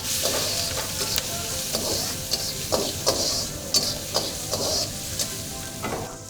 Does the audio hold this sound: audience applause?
no